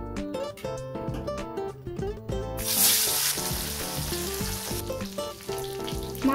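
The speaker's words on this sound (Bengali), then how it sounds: "কড়াইতে আমি সর্ষের তেল দিয়ে নিয়েছি, তেলটা আমার গরম হয়ে গেছে। এবার আমি মাছগুলো দিয়ে এক এক করে দিয়ে ভেজে নেব।" Silver carp pieces frying in hot mustard oil give a bright, steady sizzle that swells louder partway through, over a layer of background music.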